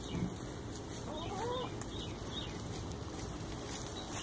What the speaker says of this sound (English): They peck at the grain and eat it with their beaks.